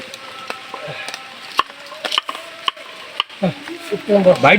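Chopped onion and garlic being stirred and fried together in a pan for khichuri, with sharp scraping clicks of the spoon over a low sizzle, close by, growing busier toward the end.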